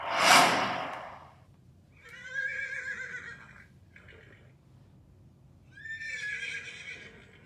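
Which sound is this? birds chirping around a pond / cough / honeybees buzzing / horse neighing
horse neighing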